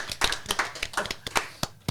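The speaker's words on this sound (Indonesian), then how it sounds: "Berikan tepuk tangan sekali lagi untuk Kartika Berliana." Scattered hand claps from a few people, uneven and brief, close by, fading out after a couple of seconds.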